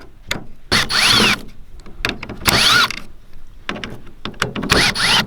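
Short bursts of a small driver fitted with a Torx bit working on a Nissan X-Trail T30 window switch, several brief whirring runs with clicks between them, close and clear, no talk.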